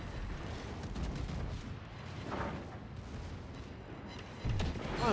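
Ship guns in the World of Warships video game firing in a steady, rumbling barrage of booms and blasts, with a louder, heavier impact near the end.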